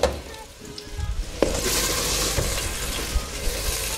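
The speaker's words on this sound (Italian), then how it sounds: "aggiungete 3 cucchiai d'olio, gli odori appena puliti, sentite soffriggere di già" Aromatics and fresh vegetables sauté in three spoonfuls of olive oil in a pan, a steady close sizzle that swells after a sharp start and holds under occasional light stirring clinks, with no talk.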